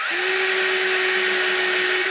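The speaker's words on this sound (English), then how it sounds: "pre-drill that" A steady, loud drill whine holds one pitch for about two seconds, pre-drilling a mounting hole, spinning continuously without pause.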